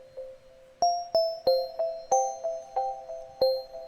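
A bright bell-like melody of about ten evenly spaced struck notes in a scenecore nightclub music track, each ringing briefly before the next, forming a relaxed repeating pattern with no voices.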